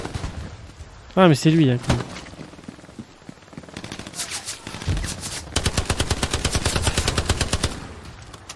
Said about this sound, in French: Qui c'est qui tire comme ça, là?